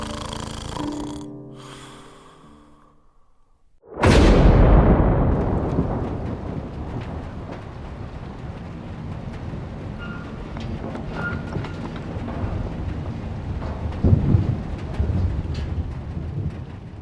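Thunder from a nighttime spring severe storm: a sudden loud crack breaks out of near-silence, then a long, heavy rumble rolls on steadily, with another swell of rumbling toward the end.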